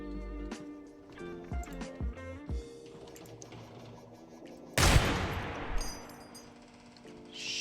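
Rapid gunfire from a rooftop turret in the shooter game Receiver 2 erupts as a loud, dense burst about two-thirds of the way through, cutting across game music and other background tones.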